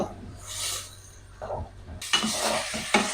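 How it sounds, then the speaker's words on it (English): A utensil stirs and scrapes shrimp sizzling in a pan of garlic cream pasta sauce, with close, steady frying hiss and sharper clinks of metal against the pan toward the end. "Keep stirring until the shrimps cook."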